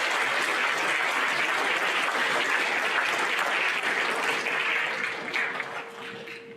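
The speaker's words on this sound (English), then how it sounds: "A round of applause for our gold president." Sustained applause from a school audience at an eighth grade awards program, dense and steady for several seconds before thinning and tapering off near the end.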